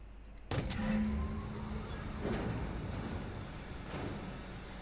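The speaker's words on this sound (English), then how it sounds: "Those sound like jet engines." Ship engines in The Outer Worlds video game, a loud jet-like roar that starts abruptly after half a second and holds steady with a low hum, swelling in a few whooshing surges.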